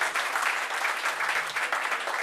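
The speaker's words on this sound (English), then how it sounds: "could we just give Rosie a very big clap?" A stand-up comedy crowd claps steadily and fairly loudly in a dense, even burst of applause that carries on without a break and has no voices over it.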